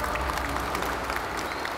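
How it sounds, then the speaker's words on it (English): Dense applause from a crowd at a Blizzard event at gamescom 2018 fills the whole moment, a continuous wash of clapping hands. "Big round of applause."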